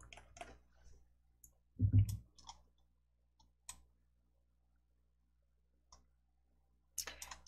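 Sparse, crisp computer mouse clicks scattered through a quiet room, single and double clicks spaced apart with a soft thump partway through.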